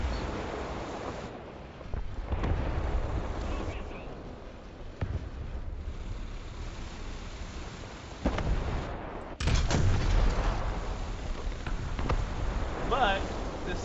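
Gunfire from a tank gun firing shells and rockets in War Thunder, several sharp blasts spread out over a rumbling engine and battle bed, with a voice talking over it.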